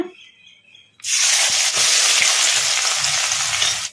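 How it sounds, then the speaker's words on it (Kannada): Finely chopped onions drop into hot oil in a kadai for a chicken fry and burst into a loud, steady sizzle that starts abruptly after a second of near silence and holds to the end. "ಉಳ್ಳಾಗಡ್ಡಿನ ಲೈಟ್ ಬ್ರೌನ್ ಕಲರ್ ಬರೋವರೆಗೂ ಫ್ರೈ ಮಾಡ್ಕೊಂಬಿಡೋಣ"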